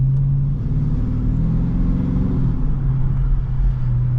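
A 2021 Dodge Charger R/T's 5.7 HEMI V8 burbles with a deep, steady low-pitched rumble from close by, swelling slightly midway as the revs rise and then settling back.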